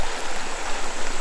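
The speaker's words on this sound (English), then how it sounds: "So we got the sound of running water tonight." Running water from a creek alongside a dirt-road campsite in the Ouachita backcountry of Arkansas makes a steady, close, loud rushing hiss with no talk.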